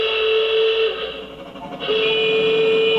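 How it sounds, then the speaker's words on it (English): A train's loud, sustained whistle blares, dips briefly, then sounds again over rumbling rail noise. "Runaway milk train!"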